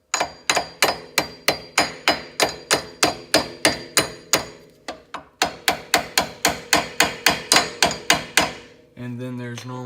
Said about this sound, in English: take like a hammer or something and kind of just like tap it to where it goes